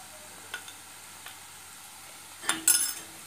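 Ginger-garlic paste, coriander powder and garam masala frying in a pan, a faint low sizzle with soft stirring taps, then a brief louder scrape and hiss of stirring toward the end.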